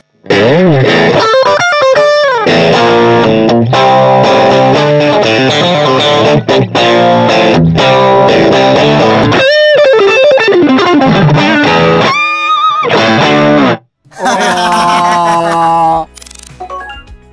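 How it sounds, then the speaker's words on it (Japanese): Vintage electric guitar played loud through a distortion pedal, with thick sustained chords and bending single notes ringing with rich overtones, briefly cutting out near the end before a last burst. "ちょっと歪み踏んでみますね。"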